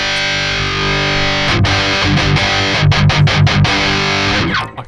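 Heavily distorted electric guitar through a Kemper profile of a Mesa amp, a sustained chord ringing loud, then a burst of fast palm-muted chugs and stabs before it cuts off.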